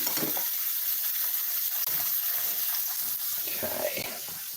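Frog legs frying in a pan give a steady, broad sizzle with bubbling bursts that carries through the whole stretch at moderate level, with no talking.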